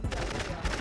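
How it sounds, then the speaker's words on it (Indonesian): Rapid bursts of gunfire from people playing at shooting during a Heroes' Day event, a dense, loud run of close, overlapping cracks and pops over about a second. "Ada orang main tembak-tembakan itu."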